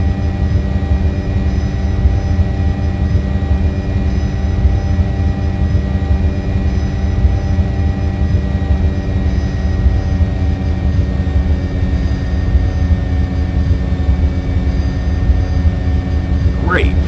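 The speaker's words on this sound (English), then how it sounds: "I want you to fly the helicopter out to the water tower, fly around it, and come back to a hover over this airstrip." An Apache helicopter in a flight-simulation game drones steadily and loudly throughout, a dense engine and rotor hum with layered tones that never lets up.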